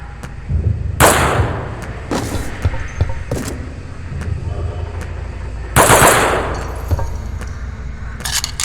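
Machine gun fire from a marine's weapon in Aliens vs Predator, several loud rapid bursts spaced over a low rumbling backdrop, close and harsh, with no voices over it.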